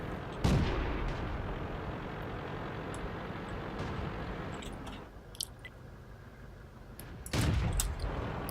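Tank gun firing in World of Tanks: two heavy, booming cannon shots, one early and one near the end, each rising over a steady rumbling engine bed, with faint clicks and mechanical noises between them.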